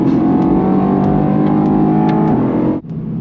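A Mercedes-AMG GT R on the Grand Prix de France circuit gives a loud, close engine roar that holds a steady droning pitch, then cuts off abruptly near the end, with faint clicks over it.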